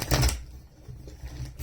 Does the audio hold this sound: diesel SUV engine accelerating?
no